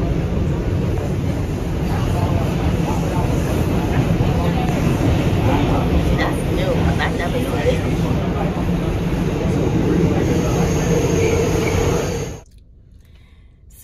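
A New York City subway train rides along with a loud, steady rumble and rattling roar for most of the stretch, then cuts off abruptly to near quiet.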